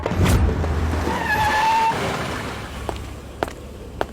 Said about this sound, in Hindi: कोई गाड़ी तो आ रही है।